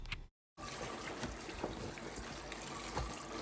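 Running water rinses fresh callaloo leaves with a steady splashing trickle that stops briefly for a moment near the start, then resumes with occasional soft knocks and splats.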